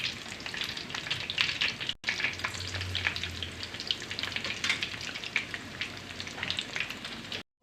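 Bread rolls fry in hot ghee in a kadhai, a busy crackling sizzle that runs steadily at close range. There is a short break partway through, then the frying carries on, with no talk.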